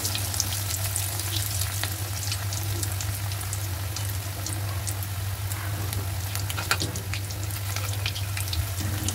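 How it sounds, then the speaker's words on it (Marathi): Bread balls deep-fry in hot oil with a steady, dense sizzle and scattered crackling pops throughout, close and continuous under a low background hum. "आपल्याला ते छान क्रिस्पी गोल्डन ब्राऊन कलरवर तळायचे आहेत."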